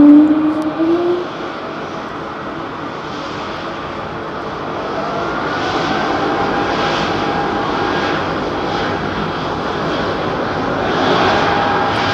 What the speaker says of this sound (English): Planes do sound better at night.